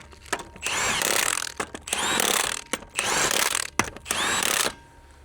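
An impact gun tightens the lug nuts on a Polaris Xpedition wheel in a star pattern, four loud, close bursts of rattling hammering about a second each, separated by brief pauses, with no talk.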